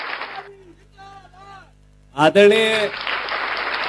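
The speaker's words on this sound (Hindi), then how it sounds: "जोरदार तालियां" Audience applause at a Vasant Panchami community event in a pavilion in Gwalior, a short burst of clapping after someone speaks over a microphone, with background crowd noise and speech before and after.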